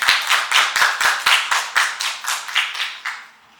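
Applause from a small audience at a youth sustainability forum welcoming a speaker, a few distinct close claps in quick irregular rhythm that thin out and stop near the end.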